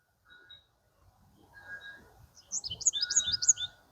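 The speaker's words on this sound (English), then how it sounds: "Look at that beautiful yellow finch that is in the fruit tree," A yellow finch in a garden fruit tree sings a quick burst of bright chirps and twitters, preceded by a few faint, thin calls in otherwise quiet surroundings.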